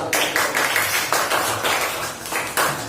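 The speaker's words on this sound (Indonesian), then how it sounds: "Aplaus yang mulia" Classroom of students applauding classmates, a burst of overlapping claps, fairly close and steady for a few seconds.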